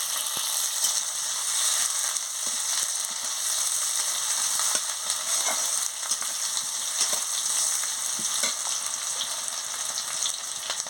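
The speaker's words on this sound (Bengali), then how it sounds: "এবারে পেঁয়াজ কুচি দিয়ে দিচ্ছি, দিয়ে মশলাটাকে ভালো করে ভেজে নিচ্ছি।" Chopped onion and ground spices fry in a pan for Bengali doi phulkopi, a steady dense sizzle throughout with occasional crackles and stirring clicks, no voices.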